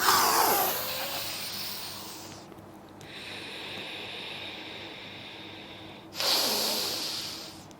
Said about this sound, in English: When you go down, exhale. When you come up, inhale.